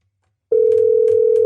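A telephone line tone starts abruptly after a brief silence and holds as one steady, loud, unbroken pitch to the end.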